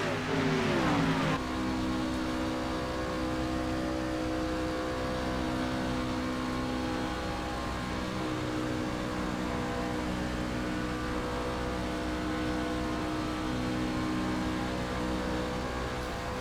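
Racing video game with Chevrolet Silverado trucks at Daytona, heard from the cockpit: a steady, dense engine drone at high revs that holds continuously throughout, with a brief rising rev at the start and no talking.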